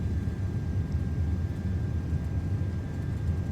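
Airbus A330 jet engines in a flight simulator, a steady, loud low roar with a thin whine above it as the throttles move forward for takeoff.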